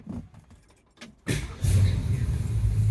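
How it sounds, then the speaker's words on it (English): Ford Mustang project car with alignment and transmission issues, after sitting a few days: faint rustling, then a sudden engine start at about 1.3 seconds that settles into a steady close idle. "We'll see if it starts."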